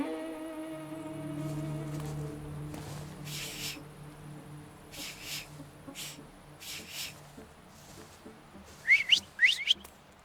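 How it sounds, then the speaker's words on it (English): Whistling in The Thaumaturge video game, a sustained tonal whistle at the start that fades, followed by scattered soft taps and a few sharp chirps near the end. "So, have you mastered whistling?"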